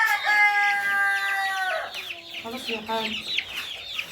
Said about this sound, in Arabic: كلكم سامعين صوت الفراخ عمال بيصرخوا